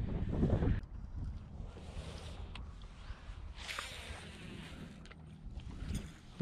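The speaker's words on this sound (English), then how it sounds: "It's a little breezy out." Wind blowing outdoors on a river, a broad rushing gust that buffets the microphone, loudest at the start, then a steady breezy hiss with faint knocks and movement, no talk.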